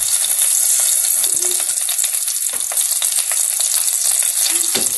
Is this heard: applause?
no